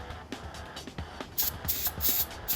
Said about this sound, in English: Begin by spraying half of the weapon from top to bottom